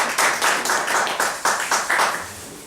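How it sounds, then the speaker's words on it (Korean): A church congregation claps for a vocal ensemble, a fairly loud burst of applause with uneven rhythmic surges that slowly tapers off toward the end. "여러분들 중창팀 수고하신 분들께 다시 한번 박수"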